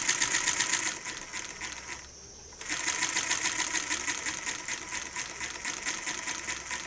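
A small model steam engine chuffs rapidly and evenly on only about 15 psi of steam, a close, light mechanical patter that briefly drops out, then resumes at the same quick rhythm with no talking.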